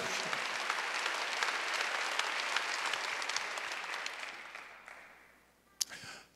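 A church congregation applauds at a Wednesday worship service, a dense, loud wave of clapping that slowly fades away near the end, followed by a few scattered claps and a brief noise.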